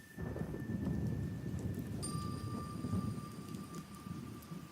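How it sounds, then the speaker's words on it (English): Thunder rolls under steady rain in the ambience of an ambient hip hop track. The rain hiss is constant, a deep rumble swells throughout, and a sustained synth tone comes in partway. "over here in the intro, we get some thunder"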